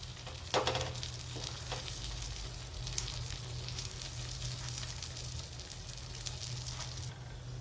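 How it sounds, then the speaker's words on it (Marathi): A flatbread tortilla for paneer tacos sizzles on butter in a pan with a steady, close frying hiss. A few brief scrapes or taps come early on, and there is no talk. "आता ही पोळी अशी बटरवर ठेवून द्यायची."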